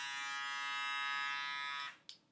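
A Braun Series 3 electric shaver with floating foils and a back-and-forth cutter hums and buzzes steadily up close, then is switched off and winds down, followed by a brief click.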